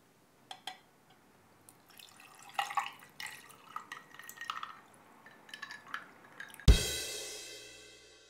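A cocktail for Purim is stirred and poured over ice, with soft liquid drips and small clinks building up before a sudden bright splash and pour that rings out toward the end, with no talking.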